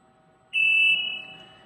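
An industrial flotation dryer sounds its door warning as the door slowly lowers: a single loud, sustained electronic beep starts abruptly, holds steady, then gradually fades, close and alone.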